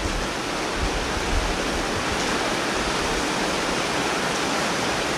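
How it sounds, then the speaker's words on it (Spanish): Heavy rain falls during a storm as a steady, dense hiss that stays even and unbroken throughout, without voices or distinct drops standing out. "¿se alcanza a escuchar la lluvia o no se alcanza a escuchar la lluvia?"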